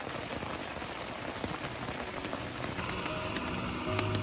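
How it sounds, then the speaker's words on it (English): Morning rain falls steadily at a bush campsite in Royal National Park, with many small drops pattering close on surfaces such as a tent or tarp and a soft continuous wash behind them. "True to forecast, we've woken up with a bit of rain"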